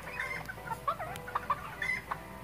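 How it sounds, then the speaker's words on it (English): A hen in the video game Easter Egg Maker clucks in a series of short, bright calls of varying pitch over a quiet, faint background hum. "The hen is ready to lay an egg."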